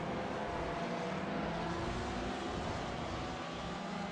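LMP1 prototype race cars in the iRacing Le Mans Series at Interlagos make a steady, fairly faint engine drone, with one passing slower GTE cars on a narrow part of the circuit.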